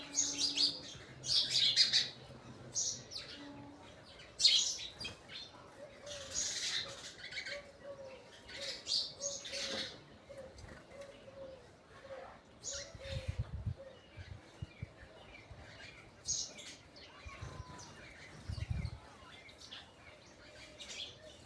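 Birds chirp and tweet around a village home, with bright repeated calls scattered near and far over a quiet background and occasional low rustles or knocks, with no voices.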